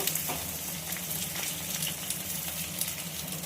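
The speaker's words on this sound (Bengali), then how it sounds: "ভালো করে একটু নেড়ে চেড়ে সবজিটা নরম করে মজিয়ে নেব।" Vegetables being stirred and fried soft in a pan, a continuous crackling sizzle with scraping stir sounds throughout, moderately quiet and close, without speech.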